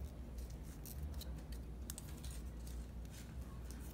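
Scissors cut a strip of cereal-box cardboard with several quick, crisp snips at close range over a quiet background.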